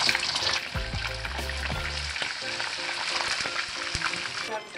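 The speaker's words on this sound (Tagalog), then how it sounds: "simulan ko sa aking pagpipritos ng isda" Fish fries in plenty of oil with a steady, close hiss and crackling sizzle, and faint tonal sounds run underneath throughout.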